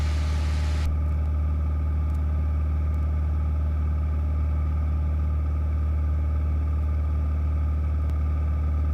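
A Cessna 172 Skyhawk engine at about 2,300 RPM heard from inside the cockpit, a loud constant low drone with a steady hum and no talk.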